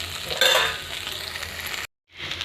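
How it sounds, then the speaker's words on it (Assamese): Mixed vegetables fry in a pan over a medium flame, giving a steady close hiss with stirring scrapes. The sound cuts out briefly near the end and then returns. "মই এতিয়া মিডিয়াম ফ্লেমত ৰাখি পেলাই চব্জিখিনি অকণমান জাষ্ট আৰু অকণমান সিজিবৰ কাৰণে ৰাখি দিম"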